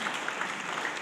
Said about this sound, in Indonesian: Kita beri tepuk tangan untuk Pak Damas.